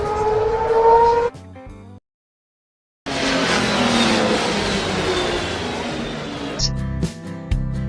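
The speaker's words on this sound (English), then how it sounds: "Race car" A race car engine roars loudly and continuously for several seconds after a short silence, framed by brief snatches of other sounds and music before and after.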